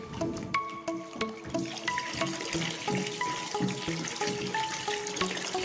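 Isopropyl alcohol poured into a homemade antiseptic liquid, a close, continuous splashing and gurgling pour with small bubbling pops and no talk.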